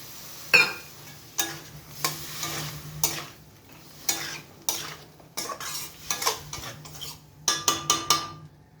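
A spatula stirs and scrapes food being sautéed in a pan with a little water added, where two pieces of fried fish are cooking. About a dozen sharp metallic clinks and scrapes come in an uneven rhythm over a soft sizzle, close and fairly loud.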